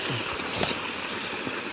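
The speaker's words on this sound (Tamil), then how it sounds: "தண்ணி நல்லா அருமையாக வந்துக்கிட்டு இருக்கோம்" Water gushes steadily from a freshly serviced 900W BLDC well motor pump with a Y-joint outlet at a rural well, a continuous loud rushing stream with no talk.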